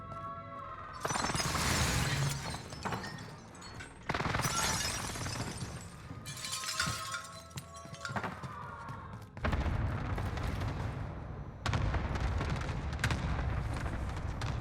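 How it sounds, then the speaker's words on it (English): Precision airstrike explosions in Call of Duty: Warzone land as a series of loud, heavy blasts with crackling, shattering debris, several bursts in quick succession with brief gaps between them. "Enemy precision airstrike."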